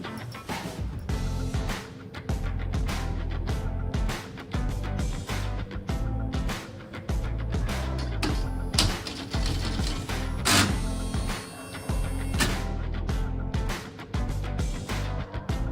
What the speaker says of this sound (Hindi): ये मोटर कैरेज चल रहा है।